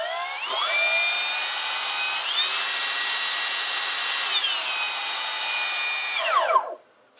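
A Freewing 1700mm A-10 Thunderbolt II RC jet with twin 80mm electric ducted fans powers up into a loud, close, high-pitched whine, steps up in pitch a couple of times, holds, then spools down and stops.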